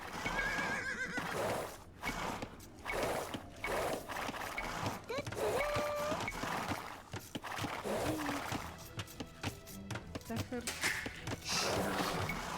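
Horses in Age of Empires II whinny and neigh repeatedly over scattered clip-clopping hooves and clicking game effects, with a voice talking now and then.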